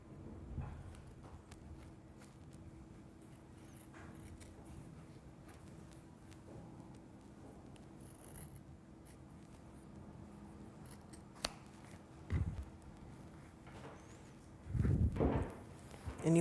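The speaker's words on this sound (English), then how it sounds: "And you want a pair of good scissors to do this." Quiet, scattered snips of scissors trimming leather, close but faint, with a few louder bumps and handling noises near the end.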